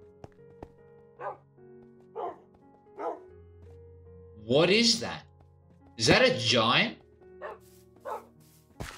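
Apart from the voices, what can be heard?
dogs barking in the video game Minecraft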